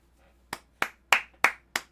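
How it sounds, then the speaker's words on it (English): Five sharp hand claps ring out one after another at an even, steady pace, close and clear against near silence. "Round of applause for Brandon, our boy."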